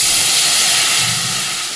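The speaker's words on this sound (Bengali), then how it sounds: "এর মধ্যে দুধ দিয়ে দেবো" Milk poured into a hot pan of fried vermicelli-style mixture lets out a loud, steady close hiss of steam that fades slightly toward the end, with no voices.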